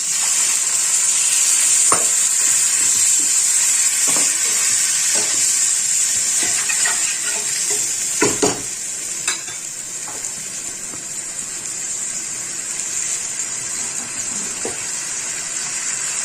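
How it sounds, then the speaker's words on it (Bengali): Fried spices for khichuri, with a little water added, give off a loud, steady hiss of sizzling that lasts throughout, while occasional stirring scrapes and knocks of a utensil sound nearby. "এবার আমি এর মধ্যে অল্প একটু জল দিয়ে দেবো"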